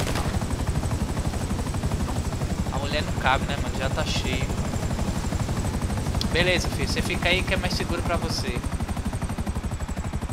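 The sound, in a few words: helicopter in a video game (GTA V)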